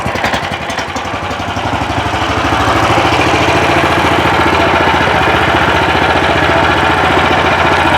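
A walk-behind tractor engine starts and settles into a loud, close, steady idle with a rapid chugging pulse, running alone with no voices.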